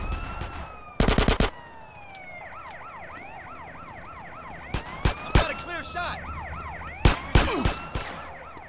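Police sirens wail and warble continuously in GTA San Andreas as cops give chase, overlapping at close range, with several loud bursts of rapid gunfire cutting through.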